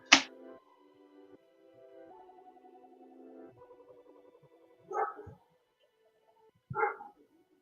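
Indoors at home, a dog lets out a few sharp barks, one at the start and two more spaced a couple of seconds apart, with quieter whimpering and tonal sounds in between.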